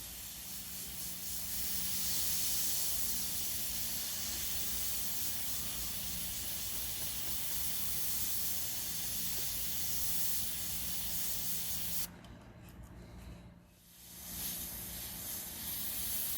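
Airbrush spraying paint onto a small 3D printed fantasy medieval cottage, a steady close hiss that runs for about twelve seconds, cuts off briefly, then resumes.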